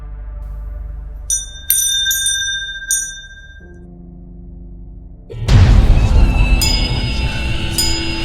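A notification bell sound effect rings several bright, quick chimes, then gives way to a low tone and a loud noisy swell.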